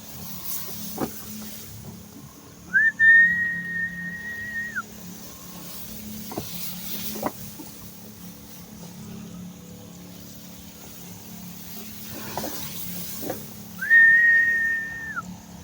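A person whistles to call the wind while spraying biosaka solution on crops outdoors: two sustained, level whistled tones several seconds apart, with sharp clicks and a low background hum between them.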